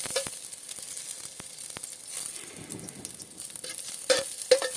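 Chopped onions sauté in a hot pan with a steady light sizzle, punctuated by sharp scraping clicks of a spatula stirring against the pan, close and continuous.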